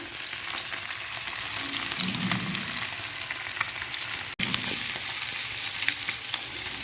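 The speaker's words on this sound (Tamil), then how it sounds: "ஒரு பக்கம் மீன் நல்லா வறந்துச்சு" Fish fries in a pan with a steady, close sizzle and crackle that runs throughout, broken by a brief dropout near the middle, with no talking.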